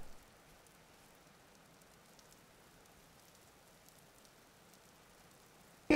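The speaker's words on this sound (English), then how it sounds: "A little rainy." Rain in the video game Vintage Story: a faint, steady hiss of rainfall with soft scattered patter throughout, alone, ending in a sudden brief louder burst.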